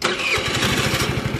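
A mini bike's small engine revs up and runs with a steady, buzzy putter, loud and close throughout, at mini bike street drag racing.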